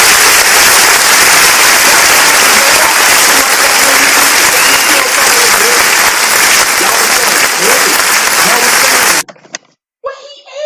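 Loud, dense applause from a crowd that cheers and whoops for a guest called sawildchild, sustained for about nine seconds before cutting off sharply, then a brief voice.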